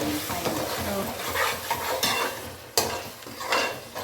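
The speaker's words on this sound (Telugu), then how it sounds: "నెయ్యి వేస్తున్నాను." Mint pulao rice with ghee stirred in a pan, with a sizzling, frying hiss and scraping of a spoon against the pan in irregular strokes, close by and fairly loud.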